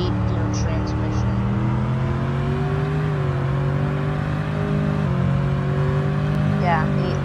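A car engine in the Roblox game Greenville, an 8-gear model, hums steadily with rising and falling pitch as it shifts through gears, up close and loud throughout.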